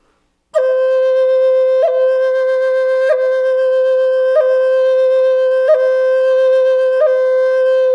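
A Native American flute plays one steady long tone, broken by short rhythmic chirps about every one and a quarter seconds, loud, close and solo.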